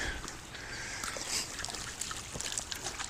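A dog wades into a creek during a spring forest preserve walk, giving soft splashes, sloshing and trickling water close by, with small lapping and dribbling sounds.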